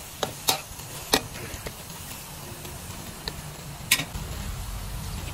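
Cucumber being stir-fried in a pan, with pork and egg mentioned for the dish, makes a soft, steady sizzle with scattered sharp taps and scrapes of a utensil against the pan.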